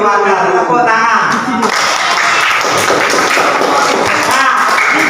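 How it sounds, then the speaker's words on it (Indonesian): Classroom students clap their hands together in a loud, continuous burst, with some speech-like voices mingling under the rapid patter. "Tepuk tangan."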